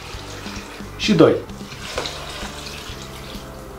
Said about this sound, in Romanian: Iar peste cireșelile acestea vin și pun 2 litri de apă.